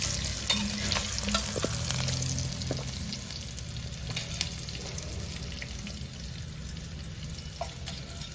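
Hot oil tempering with asafoetida sizzles steadily over dhokla, a dense continuous crackle with a few faint clicks, close and even throughout.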